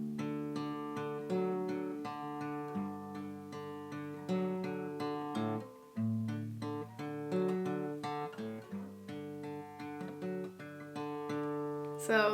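Fingerpicked acoustic guitar playing the intro pattern of a song, with clear plucked notes ringing in a steady, gentle arpeggio and a held chord near the end, played alone and up close without talking.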